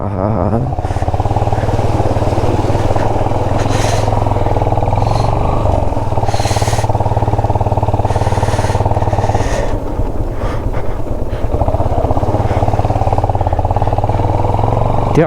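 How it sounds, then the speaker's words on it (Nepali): A motorbike engine runs steadily and loudly up close throughout, a continuous low drone with some wind noise while riding, likely on a rough road with small stones. "यति आनन्दले कुद्छ नि यो बाइकहरू"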